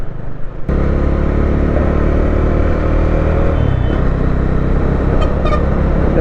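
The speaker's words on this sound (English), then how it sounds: "I'm riding a Bajaj Dominar 400" A 2021 Bajaj Dominar 400 BS6 motorcycle being ridden on the road, its engine droning loud and steady right up close, with brief horn toots from traffic near the end.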